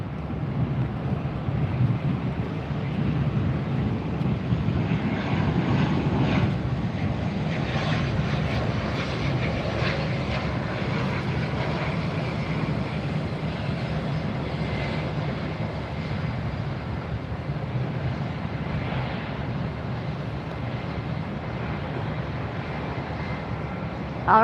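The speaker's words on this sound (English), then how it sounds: "This is Bahamas Air. It's an ATR 72-600 coming in from Freeport in the Bahamas." Bahamas Air ATR 72-600 turboprop arriving from Freeport, a steady engine roar with wind buffeting the microphone, sustained and moderately loud throughout with no voices.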